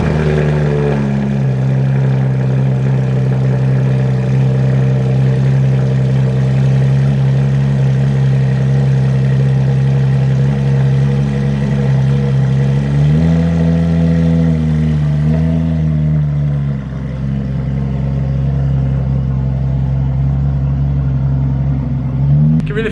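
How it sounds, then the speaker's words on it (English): Porsche 991.2 GT3 RS engine on a cold start, a loud steady high idle droning throughout, briefly rising with a throttle blip near the middle before settling lower again. "let the Porsche chill overnight so nobody can hear what it sounds like on a cold start"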